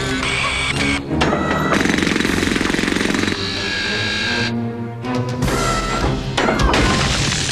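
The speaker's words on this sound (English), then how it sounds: "Jackhammer." Jackhammer pounding continuously in a rapid, loud, close hammering rhythm with brief pauses between bursts, in the animated cartoon RoboCop: Alpha Commando.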